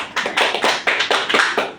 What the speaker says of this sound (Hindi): दुर्गा प्रसाद करें उनके लिए जोरदार ताली